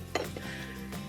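Pork balls stirred in frying pans for a stir fry in chili paste oil, giving a sharp metallic clink of utensil on pan, then a low continuous cooking hiss with a second soft scrape near the end.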